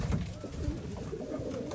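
Domestic white-eyed female pigeon cooing in a home loft where chicks are being raised, low throaty coos repeating steadily and close by against a faint background hum.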